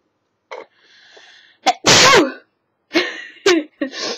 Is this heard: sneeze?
yes